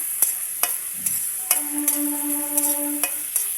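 Thick-cut carrots fry with salt in a pan while a utensil stirs them, giving a soft sizzle broken by several sharp scraping clicks and a brief ringing tone partway through.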